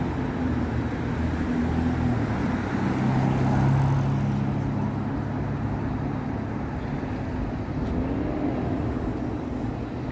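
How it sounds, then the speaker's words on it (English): A loud, noisy car rumbles past on a busy downtown Toronto street, its engine racket swelling and then fading amid continuous traffic and city roadway noise. "Still hear that car."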